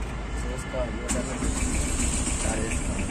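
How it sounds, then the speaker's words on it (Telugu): A Tata Ace mini truck's engine cranks and catches about a second in, then settles into a low idle, heard close under a person talking. "బండి స్టార్ట్ అయింది"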